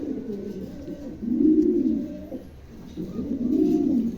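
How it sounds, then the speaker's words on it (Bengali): A pair of new adult Dragon pigeons with 9 to 10 tail feathers coo in loud, close, throaty bursts, with two long swelling coos separated by a brief quieter gap. "এখানে একজোড়া ড্রাগন আছে, দেখেন চমৎকার একজোড়া নতুন নিউ অ্যাডাল 9 খিল 10 খিলের কবুতর"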